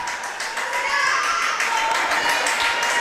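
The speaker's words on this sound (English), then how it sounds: "So we get some applause from the Meadowdale fans there." Fans at a high school district playoff soccer match clap steadily in dense, sustained applause, heard from a little distance outdoors with faint voices mixed in.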